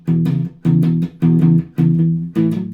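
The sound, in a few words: electric guitar strings played with a light palm mute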